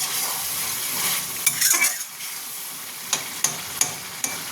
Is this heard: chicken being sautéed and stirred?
yes